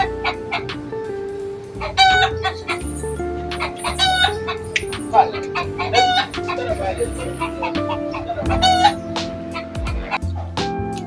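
Backyard chickens cluck steadily while a rooster crows several times, with dogs barking in between and a person talking now and then among the birds.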